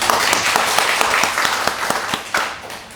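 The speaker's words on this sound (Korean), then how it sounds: "그럼 우리 박수로서 영광 돌릴까요?" A church congregation claps during a worship service, a fairly loud wash of applause with distinct individual claps that gradually tapers off.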